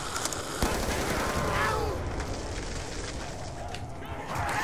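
Ray gun fire in Black Ops 2 Zombies Mob of the Dead, with rapid zapping bursts and energetic impacts in a chaotic close barrage, accompanied by swooping sci-fi tones and game noise.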